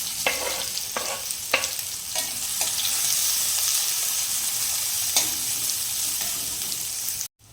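Chopped onions and a pinch of asafoetida frying in a pan for Kathiyawadi vaghar, a steady loud sizzle throughout with a few sharp crackles and stirring scrapes early on, no talking.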